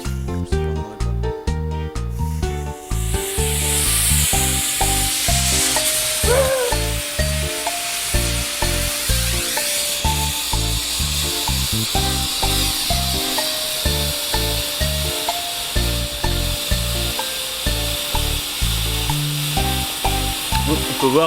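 After a few seconds a homemade potassium nitrate smoke bomb bursts into a loud, rushing hiss and keeps roaring steadily, with rhythmic music playing underneath throughout.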